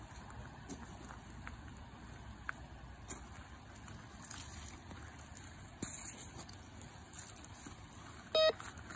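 A metal detector sweeping a riverbed gives a short, sharp electronic beep near the end, over a steady wash of flowing water and distant outdoor background.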